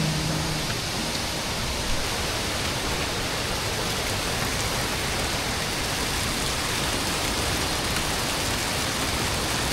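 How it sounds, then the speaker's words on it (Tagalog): Mimbalot Falls waterfall in Iligan City roars as a dense, steady wash of falling water, loud and unbroken throughout with no voices. "Isa sa pinakasikat na waterfalls dito sa Iligan City."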